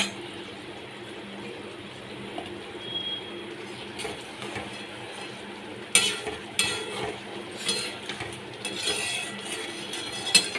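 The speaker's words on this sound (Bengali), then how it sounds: "একটু কষিয়ে নিচ্ছি মাছগুলোকে দিয়ে আর বেগুনগুলোকে দিয়ে" Hilsa fish and eggplant are stir-fried in a pan, a low steady sizzle with stirring scrapes and utensil clinks that grow busier and louder partway through; no speech.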